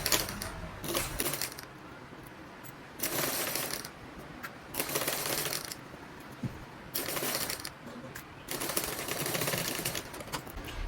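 A sewing machine stitches a front zipper fly in fast rattling bursts separated by short pauses, close and fairly loud with no talking.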